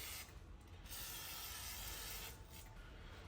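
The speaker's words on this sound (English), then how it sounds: "now that I put way too much WD-40 than what was probably even needed" WD-40 aerosol spray being applied to parts of a commercial go-kart under restoration, a loud continuous hiss lasting most of the clip with a short break near the start and another dip toward the end.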